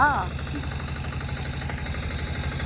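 A Pulsar motorcycle idles nearby with a steady low throbbing pulse, and a voice cuts in over it for a moment at the start.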